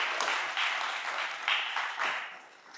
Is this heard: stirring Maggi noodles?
no